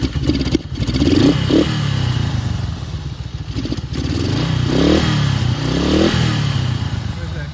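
A 1967 Honda CB77 motorcycle engine runs close by, idling unevenly with repeated throttle blips that rise and fall, mechanical clatter throughout, and a voice talking over it.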